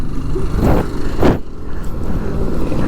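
A turbocharged motorcycle engine revs loudly and close by in two quick surges over a steady engine drone, heard in street traffic.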